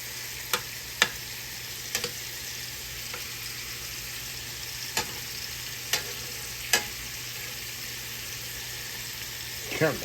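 Shrimp cooking in a skillet for old-school shrimp and tortellini Alfredo, a steady sizzle running throughout with occasional sharp clicks and taps of a utensil against the pan, no talking.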